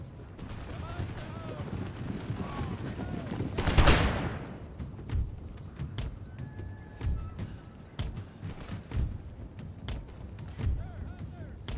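A massed musket volley in the Empire: Total War strategy game cracks out as one loud, dense burst, followed by scattered lighter shots and battlefield rumble, with a voice speaking over the din.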